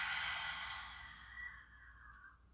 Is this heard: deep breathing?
yes